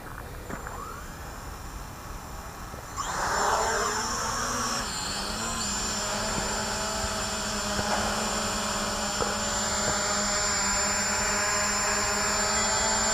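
A Hubsan X4 Desire quadcopter drone is relaunched by hand outdoors in calm air, its motors spinning up into a loud, steady high-pitched buzz that holds close by.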